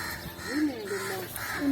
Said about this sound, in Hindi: ये कवे इसलिए बोल रहे हैं